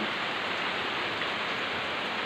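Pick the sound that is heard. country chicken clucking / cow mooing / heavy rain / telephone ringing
heavy rain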